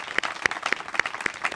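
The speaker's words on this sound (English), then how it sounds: "give them a round of applause" A small audience at a search team pairing ceremony claps for the staff, a few distinct hand claps landing in an uneven rhythm, sparse and moderately close, with no voices over them.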